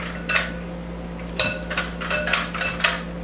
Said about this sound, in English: I haven't quite finished chopping these, or slicing this zucchini